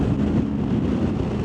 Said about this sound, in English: My word, it's windy though.